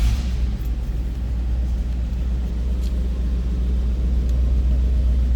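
A 1962 Cadillac Coupe DeVille with a 390 V8 idles with a low, steady rumble, close and continuous, with no talk over it.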